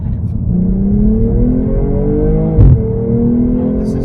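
A 2022 BMW M240i accelerates in sport mode with a loud, close, rising engine drone, interrupted by a brief thump or shift partway through before the pull continues.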